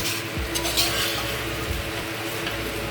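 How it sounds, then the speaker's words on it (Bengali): Rice is stirred in a pot, a few scraping strokes with light clinks of utensil against metal over a steady soft sizzle, close and unaccompanied by talk. "চালটাকে একটু নাড়াচাড়া করে নিচ্ছ, তাই তো?"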